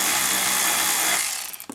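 An electric driver spins out 7mm factory screws holding a trim panel on a Chevrolet Impala during instrument cluster removal, a close, loud continuous whir lasting over a second before winding down and stopping, with no talking.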